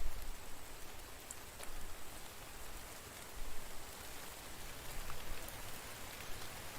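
Steady moderate rain in a video game pattering on a surface, an even hiss with a few sharper drop ticks, no voices.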